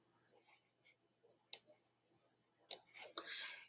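A few sharp, isolated computer mouse clicks, quiet and close, spaced about a second apart, with faint murmuring in the background.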